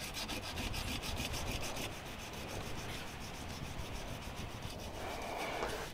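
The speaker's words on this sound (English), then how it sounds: "So at this point I'm cleaning the copper with sandpaper." Sandpaper rubbed by hand over old copper pipe, a close, steady scratchy rasp with quick repeated back-and-forth strokes and no talk.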